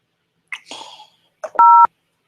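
Telephone keypad dialing tones: a short burst of noisy clatter, then one clear, loud steady DTMF tone lasting about a quarter second, with silence around it.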